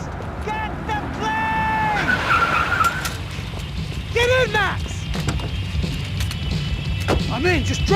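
Car engine and tire skids from a getaway drive in the Max Payne 3 video game, with rising whines and sharp squeals over a steady rumble, under urgent shouted voices.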